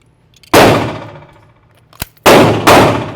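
A handgun fires three sharp, loud shots in close succession, each striking a steel target with a bright metallic clang that rings out and decays. A small click sounds between the shots.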